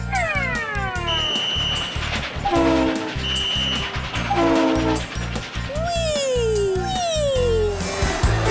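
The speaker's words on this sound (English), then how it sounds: "Those are sounds from a train station." Busy train station soundscape with repeated train horn blasts and falling whistle tones over rhythmic rolling rail clatter, loud and close, with several distinct horn calls spread across the clip.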